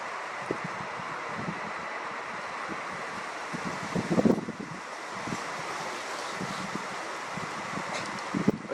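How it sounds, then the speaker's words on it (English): Wind blows steadily outdoors at night, a broad even rush with occasional gusts and brief rustling bumps, a stronger flurry about midway; no talking. "Oh, it's starting to get windy."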